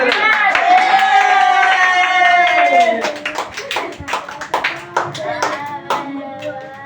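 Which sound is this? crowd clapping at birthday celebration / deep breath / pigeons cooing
crowd clapping at birthday celebration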